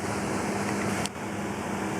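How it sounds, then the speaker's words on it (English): Outdoor pond aerators run with a constant broadband whir and hum, steady and moderately loud, with one brief faint click midway and no voices. "Sorry about the noise, but it's my aerators in the ponds here, keeping my fish alive."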